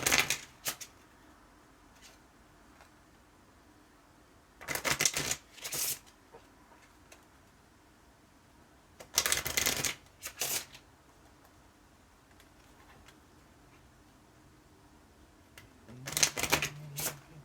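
A deck of tarot or playing cards is shuffled close by in several short, crisp riffling bursts separated by quiet pauses, each burst a quick rapid flutter of snapping cards.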